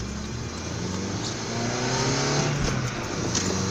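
A car accelerates during a test drive, heard from inside the cabin as a steady engine drone that swells louder midway and holds, with no talk over it.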